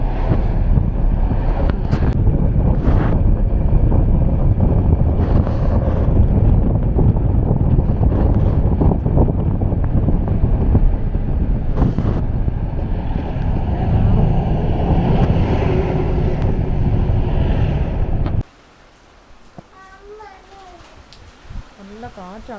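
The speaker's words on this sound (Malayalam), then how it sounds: "നല്ല കാറ്റാണ് കേട്ടോ. കാറ്റുണ്ട്." Strong wind buffets the microphone outdoors at a housewarming during heavy rain, a loud continuous rumbling roar for most of the stretch before cutting to a quieter scene with faint background voices.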